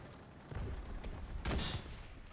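Explosions and gunfire in the World War II shooter Enlisted: a dense run of distant blasts and shots, with one louder burst near the middle standing out over the rumbling battle.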